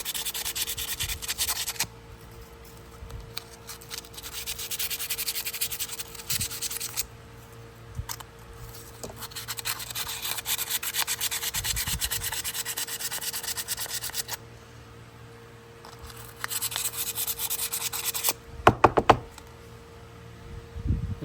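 Steady scrubbing and rubbing strokes scour rust and buildup off the inner springs of a Wards celluloid camp knife, coming in close, rhythmic bursts separated by short pauses, with a few sharp scraping clicks near the end.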